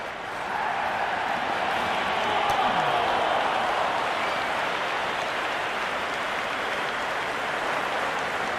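Cricket crowd in a Big Bash League match between Sydney Sixers and Adelaide Strikers in a video game, a steady wash of distant applause and murmur that holds evenly throughout with no talk over it.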